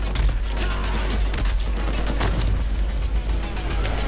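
Rapid gunfire from the boss Mouthpiece in the Borderlands 3 video game, a dense continuous fusillade of shots with heavy low booms, loud and sustained throughout.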